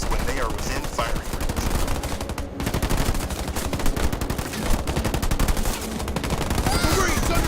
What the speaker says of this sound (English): Marines under fire from enemy ground troops!